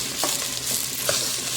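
Chicken pieces for adobo sizzle and fry in a hot pan, a dense continuous hiss with faint crackles, close and steady.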